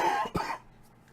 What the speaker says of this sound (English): Had to clear my throat a little bit.